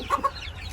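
Chickens clucking in a cage, two short close clucks in quick succession followed by quieter fowl murmuring.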